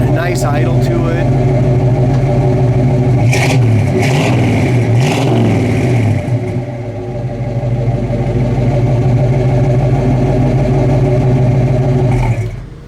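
A 1969 Camaro SS engine idles with a deep, lumpy exhaust rumble, rising briefly in a few revs before settling back; voices speak over it at times.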